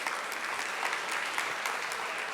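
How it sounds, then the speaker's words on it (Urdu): An audience claps continuously for the Women University vice chancellor at a Consumer Rights Day and International Women's Day awards event at Dreamworld Resort, a dense, steady crowd applause. "بہت ساری تالیاں ان کے لیے بجائیے گا"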